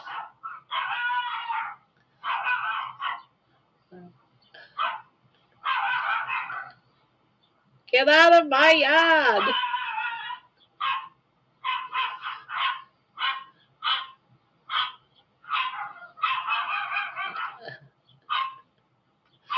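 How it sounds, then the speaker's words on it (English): Repeated bursts of dog barking from a distance outside in a back yard, in clusters with pauses, interrupted once by a person shouting. "That's the dog out in the back."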